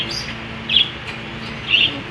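Two short, bright chirps from African Black Crested pigeons in a loft, spaced about a second apart over a quiet hum of background noise.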